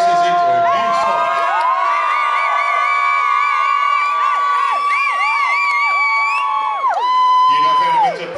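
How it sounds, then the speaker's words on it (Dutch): A crowd cheers for a dance team in a hall, with loud, high whooping and shouting voices, many of them children, sustained for several seconds before fading into general noise. "Geef ze een groot applaus."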